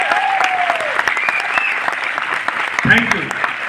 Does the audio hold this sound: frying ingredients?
no